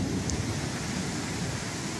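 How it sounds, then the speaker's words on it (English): A thunderstorm with heavy rain in Biloxi, Mississippi: a steady, dense wash of rainfall and low rumbling fills the scene, with some wind buffeting, continuous and fairly loud. "there's some severe thunderstorms and a lot of rain coming this way"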